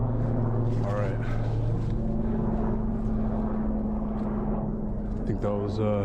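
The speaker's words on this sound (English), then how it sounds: "I think that was a helicopter or a plane or something up there." A helicopter or plane passes overhead above woodland at night, a steady low engine drone holding throughout, with voices and rustling over it.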